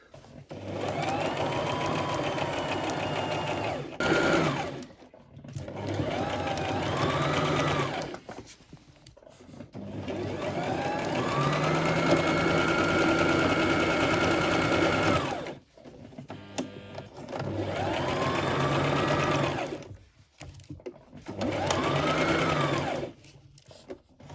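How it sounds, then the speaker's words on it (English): A sewing machine stitches a straight seam on a tiered maxi skirt in several long, steady runs, each broken by short pauses and brief slower bursts. "just going to sew straight across"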